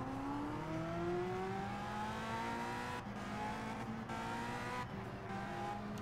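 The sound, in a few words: race car driving past, 1965 Indianapolis 500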